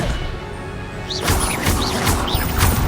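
A fiery spell bursts in combat in the video game Hogwarts Legacy, heavy crashing impacts and whooshing effects layered over the game's background sound, with several hits in quick succession.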